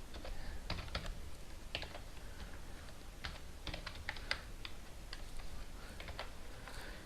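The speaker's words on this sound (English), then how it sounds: "So let's type profile pic" Computer keyboard typing is heard up close as quick, irregular clusters of light key clicks with short pauses between bursts, all over a soft background hiss and with no voices.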